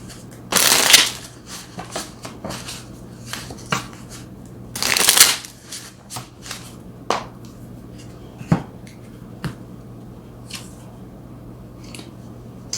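Tarot cards being shuffled by hand: two loud riffling bursts a few seconds apart, followed by scattered crisp flicks and taps of cards being handled and laid out, close and without talk.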